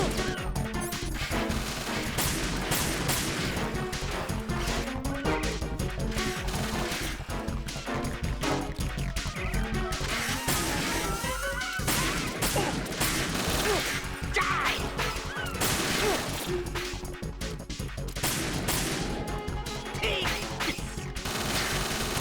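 Sustained gunfire from a magazine being emptied in Metal Gear Solid 2, dense overlapping shots and crashing impacts that run loud and unbroken for the whole stretch, with game effects layered underneath.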